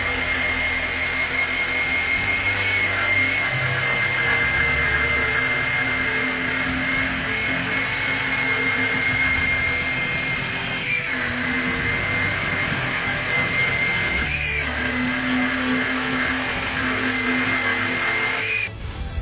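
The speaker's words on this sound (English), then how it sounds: "Renegade makes this Scotch-Brite wheel, as I'm going to call it" A Renegade Scotch-Brite-style abrasive wheel polishes aluminum diamond plate. Its motor whine and surface grinding run loud and continuous, with two brief dips partway through and a tapering at the end.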